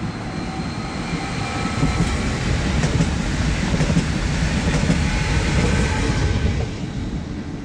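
A train runs through Taksony on the old line 150, a loud, close, steady rumble with rhythmic clatter from the wheels that swells and then eases a little near the end, with no voices.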